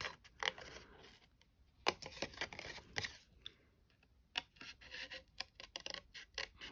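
Scissors cut through paper card along a line for a papercraft Easter project, giving a series of close, quiet snips and rasping slices in irregular bursts, with no talk.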